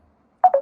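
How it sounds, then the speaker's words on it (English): A mobile phone rings in three quick, loud electronic tone bursts that start after a short silence. "Oh, my phone is ringing."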